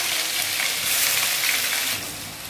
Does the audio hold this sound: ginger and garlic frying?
yes